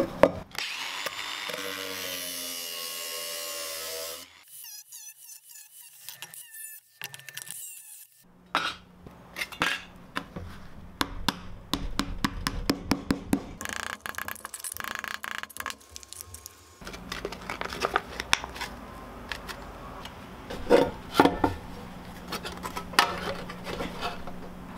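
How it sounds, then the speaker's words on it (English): A full-size Ryobi angle grinder cuts up a tin soup can. A whining motor runs up, then rough, uneven rattling and scraping bursts come through the metal, with pauses and handling clatter in between. "I'm gonna go ahead and use my full-size Ryobi grinder to make quick work of this."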